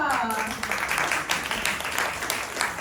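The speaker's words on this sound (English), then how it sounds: "a very big round of applause to Joel Chua" An evening event audience gives Joel Chua a round of applause, a continuous, moderately loud spread of clapping that fills the clip with a faint voice at the very start.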